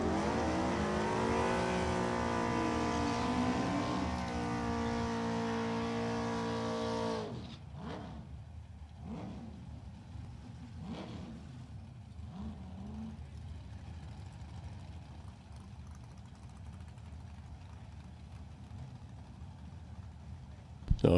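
A Hugger Orange Camaro's drag racing engine revs loud and rising at first. The roar then drops to a more distant rumble with a few surges as the car pulls away down the strip.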